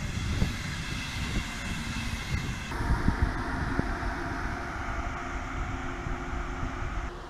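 A German ICE high-speed train rushes past with a continuous roaring, rumbling hum and wheel noise, steady and fairly close, with no voices.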